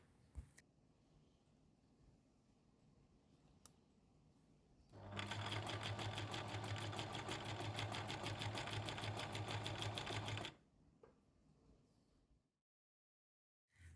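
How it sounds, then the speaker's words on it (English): A sewing machine runs steadily for about five seconds, stitching along the pinned edge of quilting fabric squares with a rapid, even needle rhythm, set between quiet pauses. "on the machine, stitch along the edge you have pinned"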